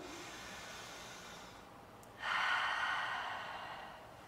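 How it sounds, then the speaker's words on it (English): A child takes a deep, loud breath, a soft inhale followed by a stronger, breathy exhale that swells and then slowly fades, heard up close in a quiet room. "Your breath sounds so good"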